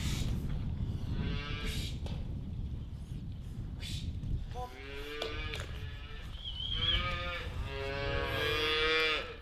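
Calves moo again and again as they are moved out to a feed pad and paddock, loud nearby calls layered over one another with wind rumbling across the microphone.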